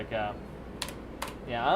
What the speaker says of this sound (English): people are most likely going to hear my keyboard